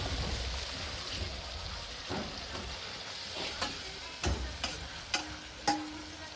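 Goat meat frying in a pan, a steady soft sizzle with occasional sharper pops and stirring scrapes toward the end, close and moderately quiet.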